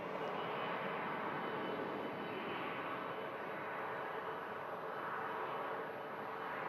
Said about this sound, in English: That Virgin A350 taxiing out for Las Vegas as the Air France hop rolls back to Paris.